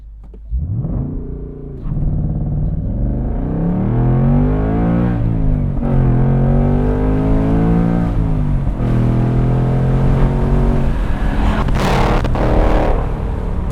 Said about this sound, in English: I let the clutch slip a little bit more than I probably should have